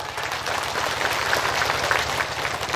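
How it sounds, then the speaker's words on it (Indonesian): Steady applause from a mosque congregation at an Islamic religious gathering, a continuous dense wash of many hands clapping at moderate level, without talk over it. "tepuk tangan dulu dong"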